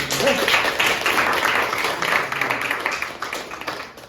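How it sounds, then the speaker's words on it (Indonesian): A class of students applauds after a group presentation in a teaching practicum, a loud, dense burst of clapping that runs steadily and then tapers off toward the end. "Tepuk tangan dulu"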